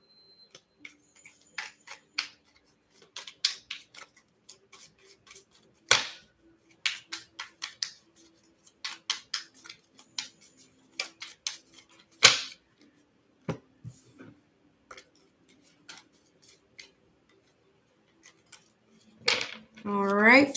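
Tarot cards shuffled by hand in a series of crisp, irregular flicks and taps, close and fairly quiet, with short pauses between bursts and a brief voice near the end.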